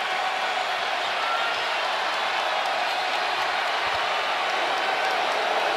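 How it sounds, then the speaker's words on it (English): Dense crowd roar fills an NBA playoff arena during a Nuggets–Timberwolves fourth quarter, a steady wash of cheering voices at constant loudness with no breaks across the whole stretch. "Crowd fired up."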